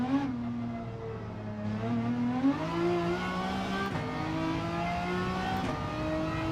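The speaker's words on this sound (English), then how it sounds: "One lap attack against the Renault Megane." A Renault Megane Gr.4 race car in Gran Turismo 7 revs steadily through its gears, the mid-engine note climbing in pitch with brief dips at each shift, loud and continuous with no talk over it.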